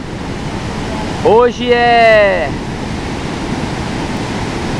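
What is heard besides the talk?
Talhadão waterfall rushing water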